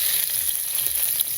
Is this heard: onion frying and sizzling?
yes